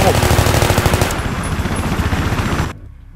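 Battlefield 3 gunfire rattles in loud, rapid machine-gun bursts for about two and a half seconds, then cuts off sharply into near silence.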